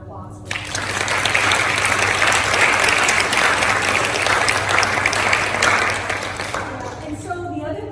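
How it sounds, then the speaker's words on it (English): Loud, sustained audience applause from a crowd at a diabetes support talk, dense clapping building quickly and holding steady for several seconds before tapering off, with a faint voice over it. "I think we give Lowell a round of applause for that."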